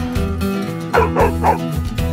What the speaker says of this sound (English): no barking at the goats